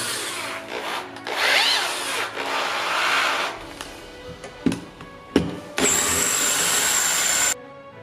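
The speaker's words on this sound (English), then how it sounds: "Drilling through 2 saw blades is not a fun time." Power drill grinding and squealing through two stacked metal saw blades in bursts, with a high whine near the end, loud and close.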